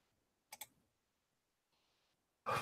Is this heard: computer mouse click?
yes